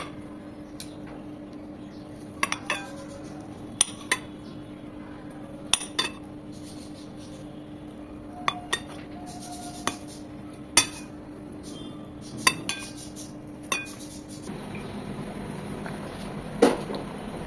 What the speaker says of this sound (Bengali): সেদ্ধ আলুগুলো আমি এভাবে স্লাইস করে করে কেটে নিচ্ছি